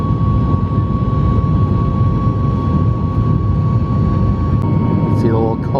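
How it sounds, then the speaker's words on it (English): An airliner lifting off and climbing, heard from inside the cabin as a loud, steady, broad engine roar with a constant tonal whine, and a brief voice near the end. "Oh yeah, we're lifting off."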